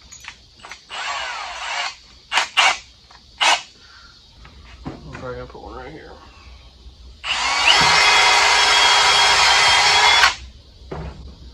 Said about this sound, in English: Probably drill through this thing first.